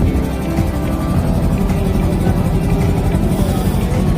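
Boat engine droning steadily while crossing the Ganges, a loud, close, continuous low mechanical rumble with even chugging and no breaks.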